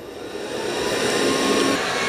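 Robot vacuum from a Dreame L20 Ultra and eufy X10 Pro Omni comparison cleaning a carpeted area, giving a steady close whirring drone that swells slightly in loudness and holds on its own without voices.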